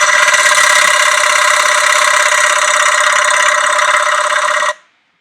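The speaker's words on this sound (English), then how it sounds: "the rattling sound is of course the stick shaker working" A CRJ200 flight simulator's stall test sets off the stall warning and stick shaker, a loud, continuous buzzing rattle with a harsh tonal edge. It holds steady for several seconds, then cuts off abruptly.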